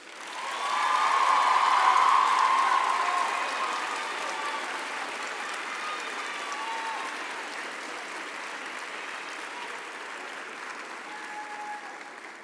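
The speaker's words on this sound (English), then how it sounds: "I would now like to ask our graduates to applaud their families, friends, and spouses for their support over the years." Graduates at a university autumn graduation ceremony applaud their families, a large hall filling with dense, sustained clapping that swells loud over the first seconds, then eases to a steady, slightly softer roar.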